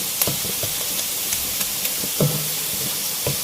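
Onions frying in a pan for an Indian chicken dish, a steady soft sizzle and hiss with occasional stirring clinks and scrapes, fairly quiet and without talk.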